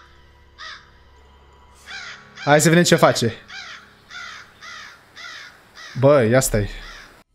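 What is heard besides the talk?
crow cawing in Siren Head video game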